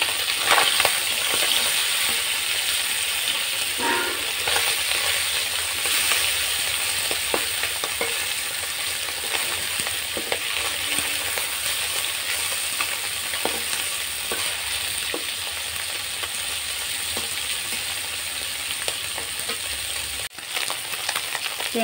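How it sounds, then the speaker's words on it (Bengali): Tengra fish, bellies full of roe, frying in plenty of oil, with a loud steady sizzle and crackle that runs throughout as the eggs burst, and occasional stirring clinks, with no voices. "ট্যাংরা মাছটা ভাজছি তো, আর ট্যাংরা মাছের এত তেল"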